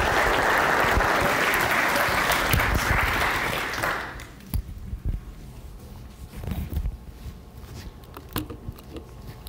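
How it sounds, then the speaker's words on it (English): Audience applause at a long-term care insurance seminar, a dense crowd clapping loudly for about four seconds before breaking into scattered claps and shuffling. "Big round of applause, please, for Romeo Raabe."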